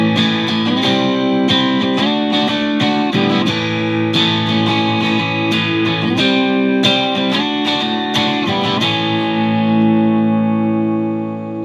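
Loud, gritty electric guitar played through a Pro Co Rat distortion pedal, strummed chords and riffs ringing out and sustaining into a final held chord.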